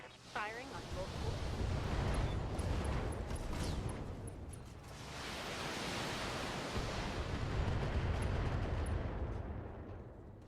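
Heavy mech weapons fire in the Battletech video game, a loud, dense barrage of booming blasts and rumbling impacts sustained throughout with brief laser-like zips over it.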